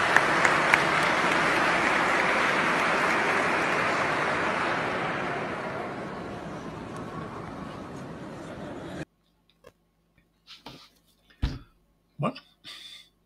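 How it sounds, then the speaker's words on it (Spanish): Audience applause rolls on as a broad, steady clatter of clapping that slowly fades over several seconds, then cuts off abruptly to near silence with a few scattered thumps. "Aplaudieron y todo, algunos."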